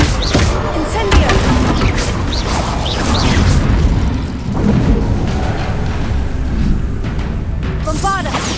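Incendio fire spell bursts in the video game Hogwarts Legacy, several loud whooshing booms and crackling blasts in quick succession, mixed with combat impacts and short shrieks.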